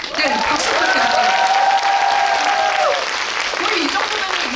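An audience at a Korean film screening and guest talk applauds an actor being introduced, steady dense clapping filling the room for several seconds while a voice rises briefly over it.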